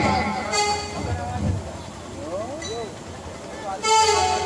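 At a railway station, a train's horn toots in short bursts over rumbling rail noise, with people talking throughout.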